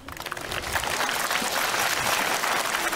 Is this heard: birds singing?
no